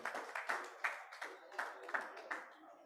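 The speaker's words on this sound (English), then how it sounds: "Another round of applause for our own dear KK" A small audience at a Lagos technical and business meeting claps for a colleague, sparse, uneven hand claps in a roomy space, fairly faint, with individual slaps distinct rather than a dense roar.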